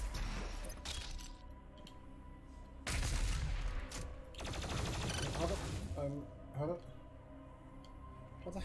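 Doom Eternal gameplay fills with loud Super Shotgun blasts and rapid game gunfire in several bursts, with crackling impacts between shots.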